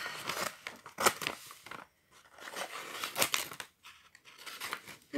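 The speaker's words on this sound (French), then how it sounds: "je suis obligée de prendre des ciseaux" Scissors snipping and tearing into a heavy parcel, with crisp cutting and crinkling packaging in irregular bursts and short pauses, close up and without talk.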